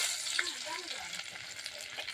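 Garlic and chilli sizzle and spit in hot oil in a pan, a dense, steady crackling hiss that lasts throughout, heard close up and fairly faint, with a soft voice murmuring in the background.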